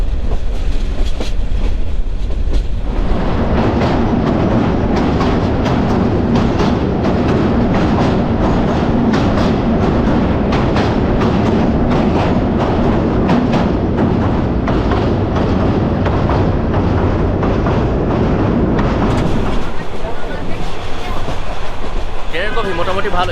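Jayantika Express passenger train running from Dhaka to Sylhet, with a loud, steady rumble and rattling clickety-clack of the wagons throughout, heard from inside at close range.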